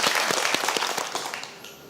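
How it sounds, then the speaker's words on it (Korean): A studio audience on a Korean quiz show breaks into applause, a dense burst of many hands clapping that fades out within two seconds. "박수로 청해 보겠습니다"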